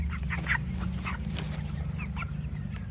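Chickens on a contract poultry farm cluck intermittently while being weighed on a scale, scattered soft clucks over a steady low hum of farm noise, fairly close with no talking.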